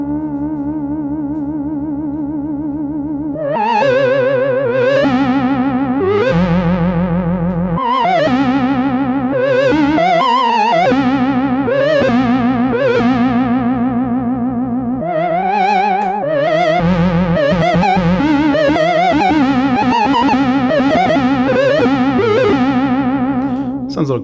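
Synth lines from an Elektron Digitone and Roland SH-101 run through a Walrus Audio Julianna chorus pedal with the rate turned up, giving a fast, warbling pitch wobble over a continuous, loud, dense stream of notes with no talking.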